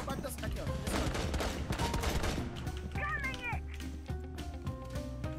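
Rapid automatic gunfire from the operator Glaz in the Rainbow Six tactical shooter crackles through a dense, busy game mix, with bursts of shots layered over other in-game noise and a voice speaking briefly.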